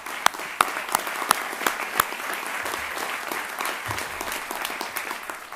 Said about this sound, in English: I want to also give a round of applause to all of those who have supported these students